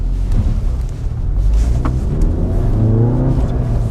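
A VW Golf GTI Clubsport S on all-season tyres revs hard and strains in slush and snow, a loud, continuous low rumble, the pitch climbing as it accelerates, with no voices.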